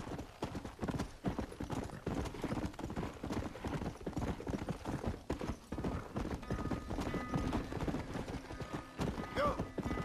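A horse gallops in Red Dead Redemption, rapid rhythmic hoofbeats pounding steadily for ten seconds close up, with a short whinny and faint tonal game sounds near the end.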